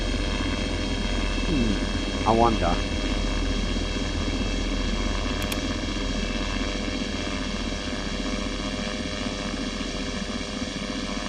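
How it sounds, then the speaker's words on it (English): A helicopter engine running in flight, heard from inside the cabin as a steady, loud droning hum with constant rotor whine, briefly overlaid by a short spoken remark. "That engine is going."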